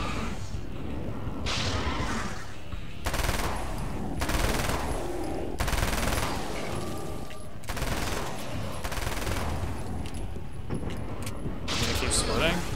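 Rapid submachine gun fire in the Alan Wake's American Nightmare video game, loud bursts recurring every second or two against steady game noise, with a voice talking over the shooting.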